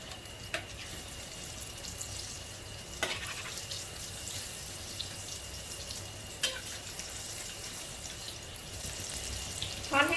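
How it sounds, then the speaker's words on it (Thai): Pieces of cha-om (acacia) omelette frying in oil over medium heat, a faint steady sizzle with a few sharp clinks of a utensil against the pan. "ใช้ไฟกลางกลางนะคะในการทอด"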